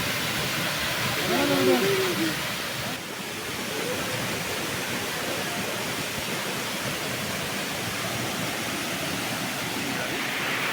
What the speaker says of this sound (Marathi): आणि वरतून पाणी पडत आहे